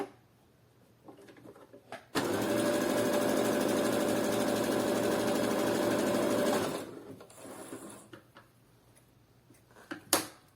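A sewing machine stitches a seam on shorts in one sustained fast run of about four and a half seconds, loud and rhythmic, framed by quiet handling noises before and after.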